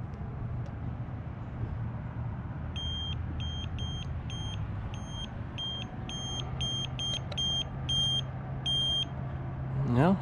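A cheap $20 handheld gas leak detector beeps rapidly at a loose gas line fitting, a run of about a dozen short, bright, evenly spaced tones over a steady low background hum.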